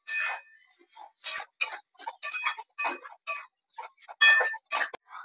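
Potatoes being stir-fried in spiced oil in a pan produce a close series of sharp spatula clinks and scrapes in an irregular rhythm, with short quiet gaps between strokes.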